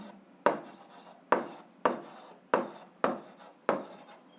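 Someone writes out a math answer for an 8th-grade algebra exercise: six scratchy strokes in an even rhythm, each starting sharply and fading, heard close in a quiet room without speech.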